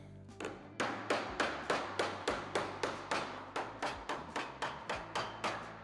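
A planishing hammer strikes a beaded metal panel over and over, each blow a sharp, close metallic hit in a steady, even rhythm with a quick ringing decay.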